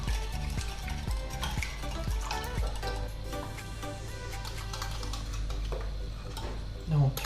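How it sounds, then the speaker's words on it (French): Eggs are whisked with liquid cream in a bowl for a lentil, potato and mozzarella clafoutis, giving quick metallic clinks and scraping taps against the bowl, fairly close and continuous with a louder knock near the end. "Je vais fouetter un peu les œufs."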